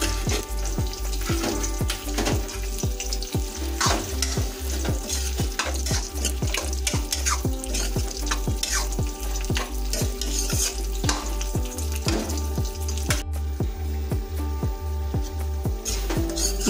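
Cabbage with chopped green chilli is stir-fried in a wok with a fish head, giving a loud constant sizzle punctuated by a steady series of sharp spatula scrapes and knocks against the metal.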